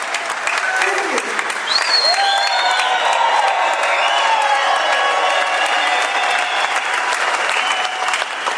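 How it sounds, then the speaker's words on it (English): Rally crowd at a workers' rights gathering breaks into loud sustained applause with cheers and high whoops and whistles on top, a dense wash of clapping close by that carries on for several seconds. "Why don't we give her another big round of applause?"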